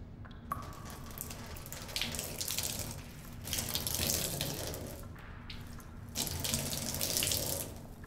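Water pours steadily into a country bathtub, a continuous splashing rush with gentle fluctuations that swells louder in a few spots, heard alone without voices.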